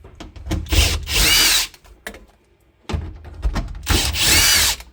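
A power tool unbolts a part inside a Nissan Hardbody pickup during interior removal, with two loud close whirring bursts separated by a short pause and some clanks between them.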